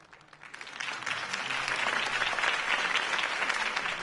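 A crowd applauds a political campaign speech by Harvey Dent in the Batman: The Telltale Series video game, the clapping swelling from a quiet start into a steady, dense ovation.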